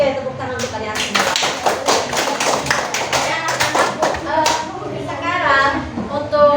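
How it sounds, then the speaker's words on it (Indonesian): A classroom of students claps hands together, a close, loud burst of rapid uneven clapping with children's voices chattering over it. "tepuk tangan untuk kalian semua"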